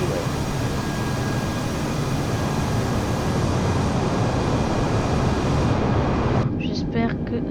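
The engines of an Airbus A320neo airliner in the video game Microsoft Flight Simulator 2020 give a steady, loud, broadband roar while the aircraft lines up on the taxiway. The high end drops away abruptly near the end.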